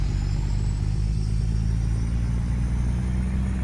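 Low, droning truck engine in American Truck Simulator, hauling an excavator from Stockton to Barstow in a low gear, a steady loud rumble with no change throughout and no voices.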